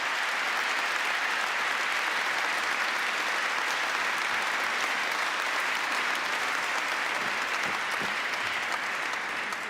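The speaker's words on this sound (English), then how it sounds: "a great round of applause for both of them for tackling those challenges" A conference audience at the Hamburg Sustainability Conference applauds steadily, a dense, even wash of clapping from many hands that holds at full strength throughout, close and loud with no speech over it.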